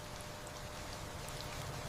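Steady rain falls in a soft, even patter, with faint scattered drops over a constant wash, distant and quiet, no voices.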